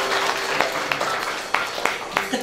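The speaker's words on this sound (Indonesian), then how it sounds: "Berikan tepuk tangan yuk bagi Tuhan" A church congregation claps in a steady patter of scattered hand claps, moderately loud, with some voices mixed in.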